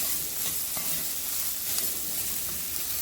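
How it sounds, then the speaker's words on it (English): Spices toasting in a hot pan for a two-bean stew, a steady close sizzle with faint stirring scrapes running evenly throughout, no voices. "the spices will get toasted"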